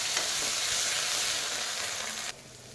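Onion paste frying in a hot wok, a steady dense sizzle that holds loud and close before cutting down sharply to a quieter hiss near the end.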